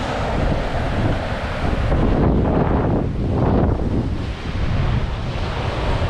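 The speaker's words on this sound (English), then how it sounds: "The wind might go up a little bit further." Strong wind roars at sea aboard a sailboat with double-reefed main and jib, a loud constant buffeting rush over the microphone with surging waves beneath, no voices.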